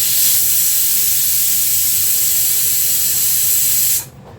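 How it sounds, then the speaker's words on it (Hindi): A kitchen pressure cooker whistles while potato noodles are being made, a loud, steady high hiss that holds for about four seconds and then cuts off abruptly. "इसी वक्त कुकर को भी सीटी देनी थी।"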